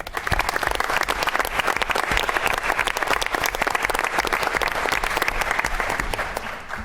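Dense, steady applause from the audience at a school board of education meeting honoring student athletes, a loud continuous roar of many clapping hands sustained throughout with no talking.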